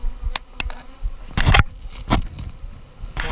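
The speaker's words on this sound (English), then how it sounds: "I've got a bee in my veil" Bees buzzing close around a beekeeper's veil while a hive is worked, with loud buzzing swells that come and go over a few seconds.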